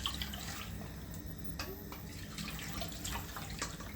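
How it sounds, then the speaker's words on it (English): Coconut milk is strained and poured through a sieve into a bowl for a salt mackerel rundown, a steady close-up trickle and splash of liquid with no one talking. "we're gonna strain out our coconut water, or coconut milk rather"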